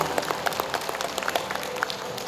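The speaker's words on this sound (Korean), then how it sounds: "큰 박수 부탁드리겠습니다." Scattered applause from an audience at the 5th Munmu Daewang Maritime Award ceremony, a thin patter of separate claps that holds steady over a couple of seconds at a moderate distance.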